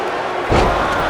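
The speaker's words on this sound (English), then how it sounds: "Santina with a massive drop kick" A wrestler lands a drop kick in a wrestling match, a single thudding impact rising out of steady crowd noise.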